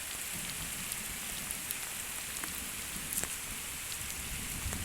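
Steady heavy rain pouring down on fields and coconut trees, a dense continuous hiss with scattered drips and splashes close by, no voices.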